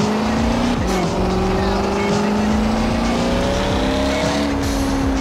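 A car in the CarX Drift Racing video game driving around a racetrack, a loud continuous engine drone with shifting pitch and faint tire noise, while someone talks over it.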